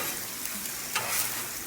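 Spaghetti noodles, ground meat and sautéed mushrooms with Cajun sauce sizzle steadily in a hot pan while being stirred, a close, even frying hiss with a brief scrape partway through and no talking.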